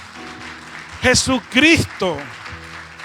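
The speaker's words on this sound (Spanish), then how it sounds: "Dale un fuerte aplauso a tu Señor." Church congregation applauding beneath a loud, fervent preacher's shouted praise, with a steady wash of clapping that continues between and after his exclamations.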